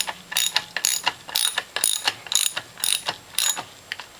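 Bolts being tightened on a Norwalk juicer with a ratchet wrench, a close, crisp series of rapid clicking pawl strokes in regular bursts, about a dozen quick ratcheting pulls in a row with no talking.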